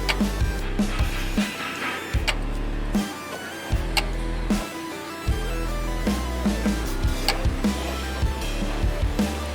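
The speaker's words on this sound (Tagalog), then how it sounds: "pag actual na nilalagyan ng power supply pag testing, pumapalo yung magnetic clutch" A car aircon compressor's magnetic clutch, powered for testing, snaps in with a series of sharp clacks in an irregular rhythm over a loud, steady electrical hum, close up and with no talking.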